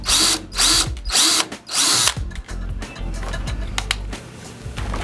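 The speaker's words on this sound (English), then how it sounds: "Then expand this hole in the side of the tank to 3/8 as well." A power drill bores out a hole in the side of a plastic feeder tank to 3/8 inch, with several loud whirring bursts followed by softer grinding and clicks.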